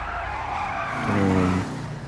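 An Albany Lurcher muscle car in GTA Online skids through a corner, its engine droning as a loud tire squeal rises and holds for about half a second before fading.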